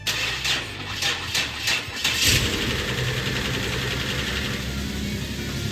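A Nissan Skyline 370GT, its engine flushed and refilled with fresh 5W30 oil and coolant, cranks with a rapid churning starter for about two seconds, then catches and settles into a steady, close idle.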